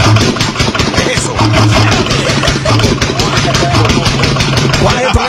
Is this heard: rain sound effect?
no